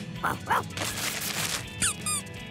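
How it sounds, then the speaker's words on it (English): Squeaky toy squeezed several times in a cartoon scene, sharp rubbery squeaks in quick separate bursts over a busy background, close and clear. "It's a squeaky toy."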